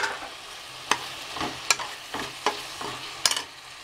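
Turmeric, chilli powder, biryani masala and coriander powder are stirred into a sizzling pot for chicken biryani cooked in a pressure cooker, with four or five sharp spoon scrapes over a low fry, close up.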